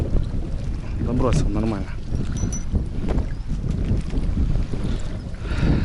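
Heavy wind buffets the microphone with a constant low rumble and gusty roar while someone speaks briefly over it outdoors.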